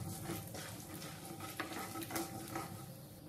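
Mustard seeds, cumin, urad dal and chana dal fry in a tablespoon of hot oil, giving a steady close sizzle with faint scattered pops and light clinks, no voices.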